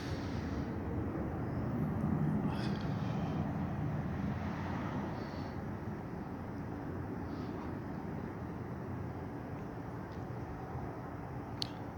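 A fixed-wing airplane takes off from an airport runway, heading north, its steady broadband roar distant and even, sustained throughout with no voices.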